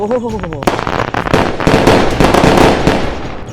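A loud, rapid string of firecrackers bursts and crackles without pause after a brief tonal sound at the start.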